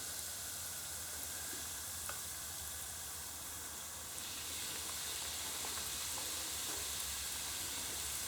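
Indian spiced Scotch eggs fry in a pan of hot oil with a steady, broad sizzle and hiss, close and even, growing slightly louder partway through.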